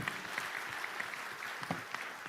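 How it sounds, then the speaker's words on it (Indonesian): A crowd at the PSI party congress in Solo gives steady applause for the organizing committee. Even, fairly distant clapping continues throughout without a break. "Tepuk tangan buat panitianya."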